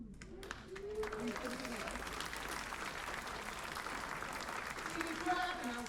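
An audience applauds at a brass band concert at a retirement community, sustained clapping that swells and holds, with voices murmuring through it.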